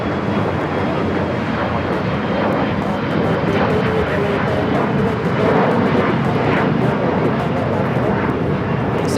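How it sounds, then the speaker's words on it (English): Delta Air Lines Airbus A350-900 jet arriving at Los Angeles International Airport after a flight from Shanghai, a loud continuous engine roar that stays steady and close through the whole stretch. "Next arrival on the north side is Delta Airlines Flight 38 coming in from Shanghai."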